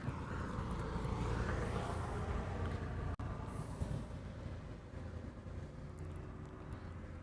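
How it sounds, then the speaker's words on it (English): A Qantas airliner departs Honolulu Airport with a broad, steady jet roar. It holds loud and even from a middle distance, broken once by a brief click, with no talking. "So there's the Melbourne Qantas flight. That's heading out."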